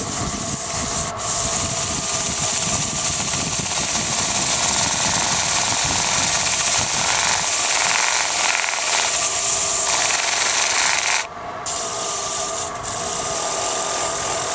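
A wood lathe spins a bowl turned with carbide tools while 180-grit sandpaper rubs against it, producing a continuous loud, close abrasive hiss over the machine's hum, with brief dips where the paper lifts.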